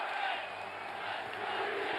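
A basketball arena crowd during a Knicks run at an NBA Finals game against the Spurs, a steady broad roar of cheering and shouting that holds at a constant level throughout, with no distinct speech.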